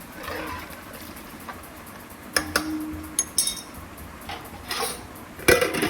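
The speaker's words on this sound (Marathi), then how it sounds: "तूं तांदूळ घालपाचे आनी तें मिक्स करून घेवपाचें" Rice for Goan pulao is mixed in a metal pot, with scattered clinks and scrapes of a spoon against the pot over a soft background hiss, close by.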